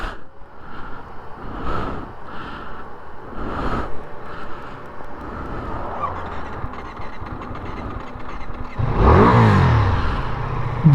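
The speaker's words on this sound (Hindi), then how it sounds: "बाइक स्टार्ट कर लिया हूँ मैं।" A motorcycle engine starts up and revs loudly near the end, after a stretch of idling road and traffic noise from cars and trucks on the road to Leh, Ladakh.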